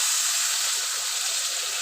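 A loud, continuous steamy hiss and sizzle fills the short moment as water hits a hot pan of fried spices and boiled taro.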